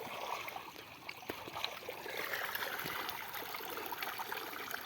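Water pours out of a village pond being drained to catch murrel fish, a steady, close rushing and trickling wash that holds at an even level throughout, with no voices.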